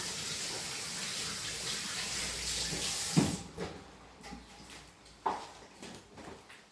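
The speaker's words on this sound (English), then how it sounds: "Okay, now just need to wash my hands because I'm touching the raw meat" Kitchen tap water runs in a steady, close hiss while hands are washed during cooking, then the flow shuts off after about three seconds, followed by a few light knocks and clunks at the sink.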